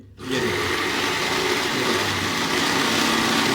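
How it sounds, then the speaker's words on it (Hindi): Electric grinding machine blending hand sanitizer ingredients at home, starting up sharply and then whirring loud and steady close by for a few seconds, alone with no talk. "अच्छी तरह ग्राइंड हो रहा है।"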